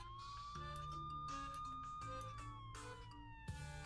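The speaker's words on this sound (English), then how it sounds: "Within a few seconds, a police siren is playing from its speakers." A police siren played through a phone speaker, its steady wailing tone sustained throughout the clip over a busy, cluttered background.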